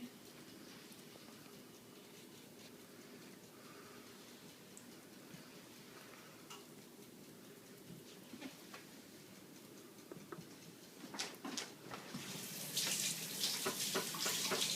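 Tap water runs faintly and steadily while fingers are rinsed at a kitchen sink during cookie making. The flow grows louder and splashier near the end.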